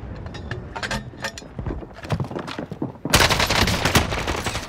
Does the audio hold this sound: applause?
no